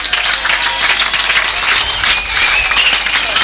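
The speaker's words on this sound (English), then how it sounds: "Give the lad a round of applause." Audience applause at an amateur boxing flyweight title bout, dense clapping from a crowd filling the room continuously, loud and close.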